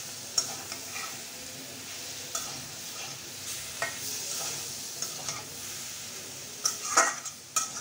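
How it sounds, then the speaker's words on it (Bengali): Bitter gourd, tomato and egg are stirred in a frying pan: a continuous sizzle runs under clear spatula scrapes and occasional metallic clinks against the pan, close-up with no voices. "এবার আমি নাড়িয়ে মিলে দিলাম।"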